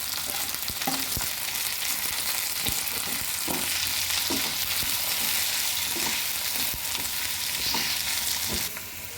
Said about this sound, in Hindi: कांदे आपको फ्राई करना है पिंक।